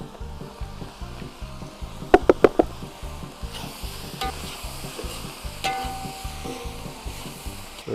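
Chopped carrots go into onions frying in a kazan, a steady oil sizzle with a few quick spoon knocks against the pot partway through, close and moderately loud with no talk.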